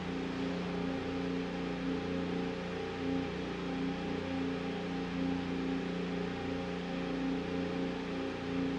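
Race car engines idle and rumble on the starting grid at the Circuit of the Americas, a steady layered drone of several engines, constant and moderately loud with no talk.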